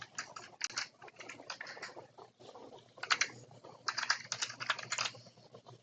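Keys clatter on a computer keyboard as notes are typed, in irregular bursts of quick keystrokes with short pauses between, fairly close and steady, no voices.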